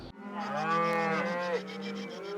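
A single cow gives one long, loud moo close by, a drawn-out bellow with a falling pitch near the end, heard alone with no talking.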